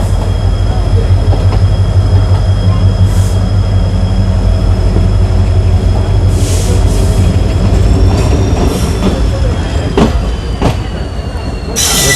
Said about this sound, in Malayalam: ട്രെയിൻ ഇപ്പോൾ എട്ടമംഗള റെയിൽവേ സ്റ്റേഷനിൽ നിന്ന് ഡിപ്പാർട്ട് ചെയ്തിരിക്കുകയാണ്.